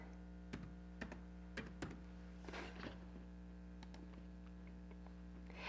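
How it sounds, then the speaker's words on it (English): Keys typed on a computer keyboard in short bursts of crisp clicks, with gaps between and a steady electrical hum underneath. "we're going to type in labels"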